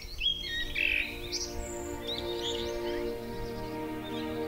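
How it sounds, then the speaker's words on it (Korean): Birds chirp in a countryside garden, with a few bright, brief tweets in the first seconds over a steady background hum, then fainter scattered calls. "새들도 나비도 놀러 왔다 쉬어가는 이곳"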